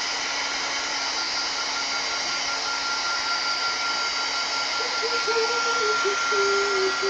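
A hair dryer or heat tool used to dry mixed media paint and ink on a garden album page, giving a steady, loud, close whir that holds even throughout with a faint pitch wobble near the end.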